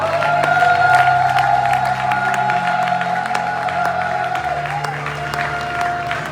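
Church congregation applauding and cheering loudly and steadily, with whoops over a sustained organ or keyboard chord that continues beneath the crowd.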